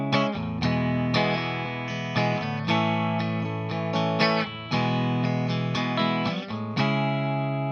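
Guitar plays the bridge of a song as a sustained, effects-colored electric part, steady chordal strums with regular accents over nearly eight seconds, alone and close.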